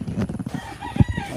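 Farm chickens clucking and fussing close by, with one louder squawk near the middle of a short, busy stretch of poultry noise.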